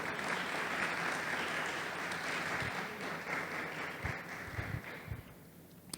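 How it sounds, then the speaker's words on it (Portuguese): A church congregation applauds during a sermon, a faint, steady wash of clapping heard from a distance that holds for several seconds and then slowly thins out. "Então aplauda Ele essa noite."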